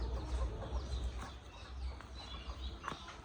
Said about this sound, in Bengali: আর একটা মুরগ ধরতেছে